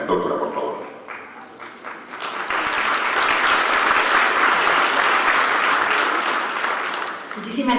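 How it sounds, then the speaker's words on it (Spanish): Audience applause at an international consumer-rights forum swells into a loud, dense, sustained wash of clapping that holds for several seconds before easing off, with crowd voices faintly mixed in. "Muchísimas gracias por el aplauso"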